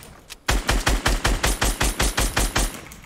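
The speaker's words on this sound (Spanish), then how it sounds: "Cuidado porque me está disparando el otro." A steady burst of about a dozen evenly spaced gunshots cracks loud and close in a Fortnite match, each shot sharp and punchy in a fast regular rhythm.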